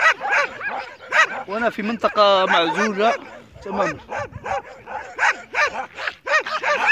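A pack of stray dogs barks in an isolated area, with sharp yips and barks scattered through the clip beneath a man's continuous close-up talk.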